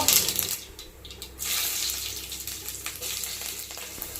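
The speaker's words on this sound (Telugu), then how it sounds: "ఆయిల్ హీట్ ఎక్కింది ఇప్పుడు తిరగబాటు గింజలు వేసుకున్నాను" Mustard seeds dropped into heated cooking oil sizzle and crackle loudly, a hissing burst that eases briefly and then surges back.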